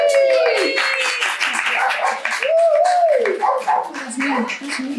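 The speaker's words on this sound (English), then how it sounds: "Give yourselves a big clap." A group claps and applauds at an office Christmas party after a balloon-making activity, a dense patter of hands mixed with cheering voices and squeaky, whining sounds.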